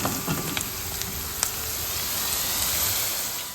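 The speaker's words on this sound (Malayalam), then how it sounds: "നമുക്കിനി അതിലേക്ക് അമരക്കായ ചേർത്ത് കൊടുക്കാം കേട്ടോ" Indian broad beans hit hot oil with spices and sizzle loudly and continuously at close range, with a few soft stirring clicks and no talking.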